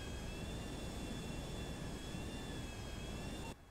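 Steady airplane engine drone from a plane in flight in GTA 5, a continuous jet-like roar with faint high whine, loud and unbroken before dropping off at the very end; no talk.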